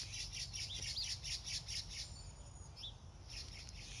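Birds squawk in a rapid string of harsh, repeated calls, loud and close at first, then thinning to a few scattered cries over a low background rumble.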